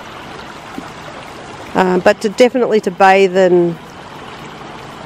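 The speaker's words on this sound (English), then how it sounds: "grab a bucket of water out of the creek or the little stream" A small, clear mountain creek near Mount Buller, Victoria, flows past a free campsite as a steady soft wash of water, partly covered by someone talking in the middle of the stretch.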